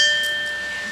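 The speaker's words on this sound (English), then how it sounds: "One of them is the bell for saying your time is up," A small bell rung at a candidates' election forum to signal that a speaker's time is up, giving one bright sustained ring with clear high overtones that fades slowly over about a second, heard alone.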